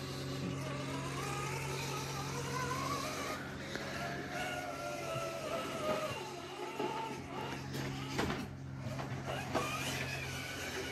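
A modified Axial SCX10 RC Ford Bronco crawler with an upgraded two-speed motor gives a steady electric motor whine with shifting pitch as it drives, close and continuous over a low background hum.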